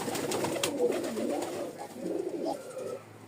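Pigeons for sale at a Rajshahi breeder coo close by in soft, low, rolling bursts, one call after another, with faint background noise and no talk.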